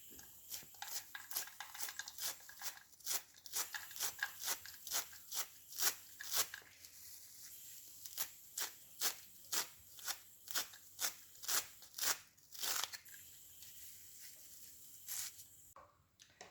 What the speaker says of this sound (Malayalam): ഇതിങ്ങനെ ഒന്ന് ചുരുട്ടണം എന്നിട്ട് കത്തി കൊണ്ട് ഇടയ്ക്കൂടെ എല്ലാം ഒന്ന് വരിഞ്ഞിട്ട് നമുക്ക് അരിഞ്ഞെടുക്കാം